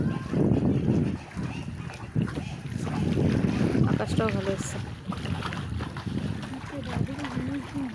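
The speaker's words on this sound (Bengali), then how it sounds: "নৌকা ভাসি চলে যাচ্ছে জলের উপর দিয়ে।" A boat glides over open water, a low rushing wash mixed with gusty wind buffeting the microphone, while people chat nearby.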